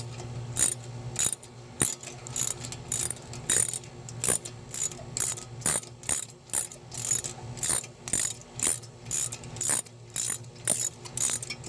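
A ratchet works loose the top brake caliper bolt on a 2012-2018 Ford Focus, giving a steady run of short clicking bursts with brief pauses between them, close and clear with no talk.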